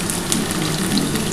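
Onion frying with potatoes in a pan for a Bengali jackfruit curry, giving a steady, close hiss and sizzle throughout with no talk.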